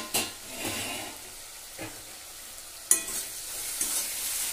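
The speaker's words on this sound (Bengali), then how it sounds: "একটু নেড়ে চেড়ে আমি ঢাকনা চাপা দিয়ে দেবো।" A small shrimp dish with tomatoes is stirred in a frying pan, the spoon scraping in a few sharp strokes over a steady sizzle, close and clear with no talking.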